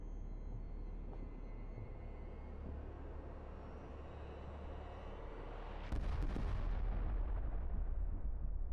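Bomb explosions in the Final Theory strategy game, a sudden heavy blast cluster erupting after a steady low rumble, followed by sustained booming noise, fairly quiet overall.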